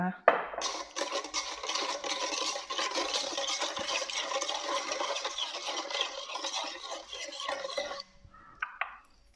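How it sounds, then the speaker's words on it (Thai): A shrimp and minced pork dumpling filling, seasoned with oyster sauce, light soy sauce and sesame oil, is mixed by hand in a bowl, making a continuous wet squelching and scraping for about eight seconds before a few brief clatters. "เราก็คลุกเคล้าส่วนผสมให้เข้ากันนะคะ"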